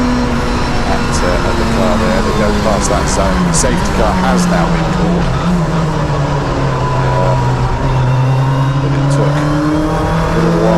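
A Honda touring car engine drones past on the Donington circuit with a rising then falling pitch, loud throughout, while a commentator talks over it.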